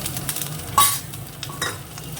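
Garlic with dried red chillies and green chillies frying in a little hot oil in a frying pan, a steady close sizzle with stirring scrapes and one brief louder clatter, no talking.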